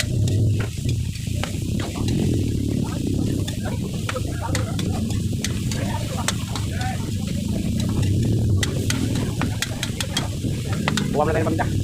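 Ground meat sautéing in a pan for ginisang giniling with alugbati, a steady loud sizzle with scraping stirs and faint clinks, close and continuous, while a voice talks now and then.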